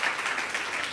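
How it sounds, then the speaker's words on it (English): A short burst of audience applause honoring a mother, a steady, dense patter of clapping throughout with no voices. "Round of applause for her mom."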